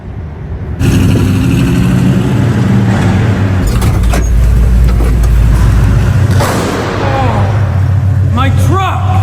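A truck engine runs loud and steady as the pickup pulls forward in a public parking test, with the rumble continuing under shouting and talk from people nearby.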